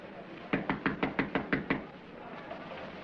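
Rapid series of about seven sharp knocks on a door, evenly spaced and fairly close, followed by a few softer taps, with no speech.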